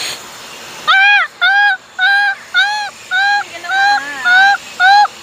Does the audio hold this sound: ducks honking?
yes